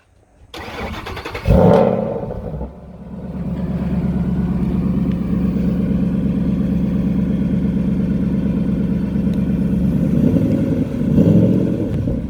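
A supercharged 2013 Mustang Shelby GT500 convertible cranks and fires with a loud bark, then settles into a deep, steady, rumbling idle close by, with a brief rev near the end.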